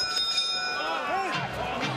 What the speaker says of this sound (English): Right hand after the bell from Chisora.